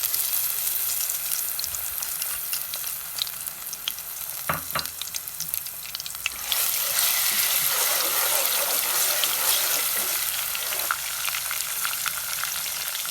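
Garlic and ginger paste frying in hot cooking oil, a loud, continuous sizzle with a brief clatter of stirring partway through that swells brighter and louder after the paste goes in, with no talking.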